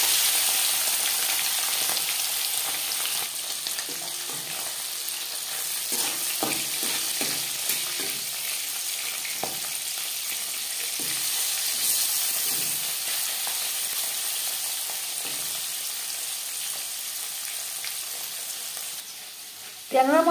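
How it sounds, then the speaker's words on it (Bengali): Marinated tangra fish frying in hot refined oil, a steady close sizzle and crackle holding throughout with scattered spatters and a few light utensil knocks. "এবার দিয়ে দেব ম্যারিনেট করে রাখা মাছ।"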